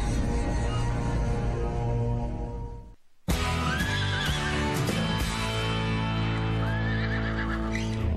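A horse whinnies loudly and repeatedly in a NASCAR race broadcast segment about Kentucky, with hooves faintly beneath and a brief gap of near silence partway through.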